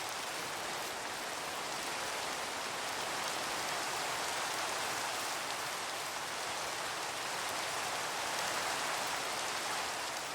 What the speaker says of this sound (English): it's weird that it started to rain right now